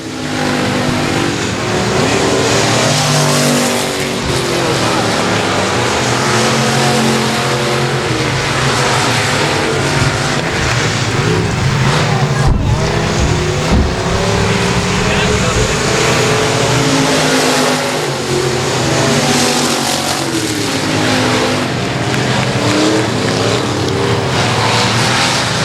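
Race cars roar around Texarkana 67 Speedway in a continuous loud engine drone, revs rising and falling as the field passes, with a commentator's voice running under the noise.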